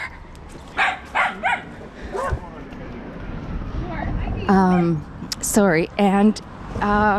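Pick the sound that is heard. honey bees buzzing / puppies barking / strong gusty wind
puppies barking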